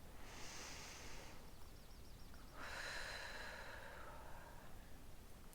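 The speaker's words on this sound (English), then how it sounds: "Again, one more deep breath." Slow, soft breathing close to the microphone, with a gentle breath in followed by a longer, louder breath out through the nose or mouth, faint and alone in a quiet room.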